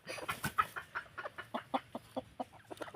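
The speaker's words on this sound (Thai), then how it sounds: "ไก่สีขาวนะครับ" White chickens with mottled ear patches clucking as a breeding pair, a close run of quick, regular clucks with no pause between them.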